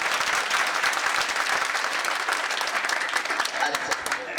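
Listeners at a Hindu religious discourse clap together, a brief thick burst of applause that stays steady with some voices mixed in.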